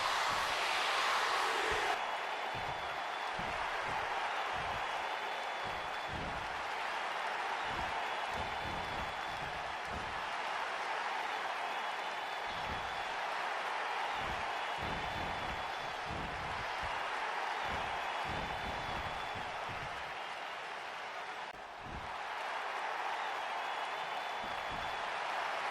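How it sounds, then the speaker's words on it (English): Steady crowd roar and applause from a wrestling arena audience in the WWE 2K22 video game, reacting to John Cena, sustained and fairly loud throughout with a brief dip near the end. "It's always amazing to see the crowd react to John Cena."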